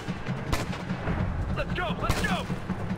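Pistol gunfire rings out in the video game Ghost Recon Future Soldier, a rapid run of sharp, fairly quiet shots and booms in a busy firefight, with brief whistling and pinging effects mixed in.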